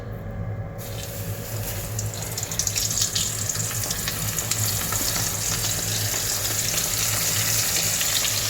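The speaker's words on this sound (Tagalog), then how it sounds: "Deep fry." Chicken necks deep frying in hot oil give a steady, dense sizzle and bubbling, close and continuous throughout, with a brief clatter at the start.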